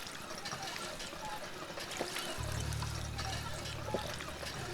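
Water running from a water pump in Fallout 4, a steady stream splashing and trickling at moderate level throughout, with a low hum joining partway.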